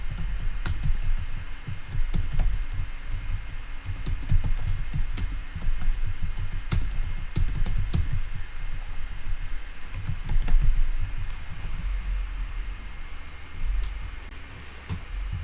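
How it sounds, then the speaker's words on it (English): Fingers type on a computer keyboard, a close, busy stream of uneven key clicks and taps with short bursts and pauses, over a low background rumble. "Maybe we should type it in."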